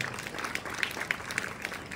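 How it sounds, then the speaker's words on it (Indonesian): A distant crowd applauds at an Islamic religious gathering for National Santri Day, giving a soft, steady wash of scattered claps with faint voices under it. "Tepuk tangan Pak Idham Khalid."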